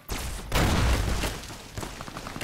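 Dynamite going off in the video game Fallout: New Vegas, a loud booming burst followed by a rumbling crackle of debris that fades with scattered pops.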